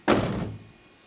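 A cargo box door on a Sprinter van swings open with one solid thunk, a close, loud impact that rings briefly before fading out, with no talking.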